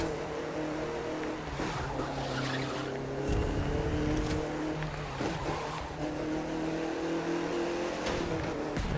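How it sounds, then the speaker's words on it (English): A car accelerating in the video game The Crew 2, its engine droning steadily and rising in pitch through gear changes, with faint tire noise, loud and continuous. "Alright, we'll put our foot down a little bit then."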